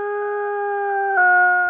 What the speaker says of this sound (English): Wolf number 94 not only howled once, he switched directions and howled twice.